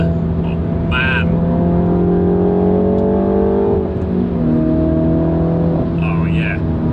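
A Mulgari ICON2 Warbird car accelerating hard through a higher-speed corner, its engine drone loud and close inside the cabin, pitch climbing steadily then dropping at a gear change before rising again, with someone speaking over it.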